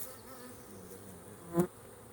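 Honeybees at a backyard hive just after a nuc install, a steady close buzzing hum that swells briefly into a louder pass near the end, with no talk.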